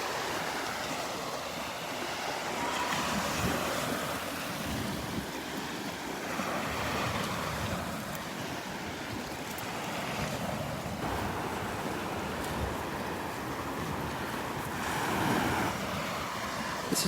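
Gentle ocean waves wash onto the beach at Delnor-Wiggins on a Friday morning, a steady, soft surf hiss that rises and falls in slow swells with no talking.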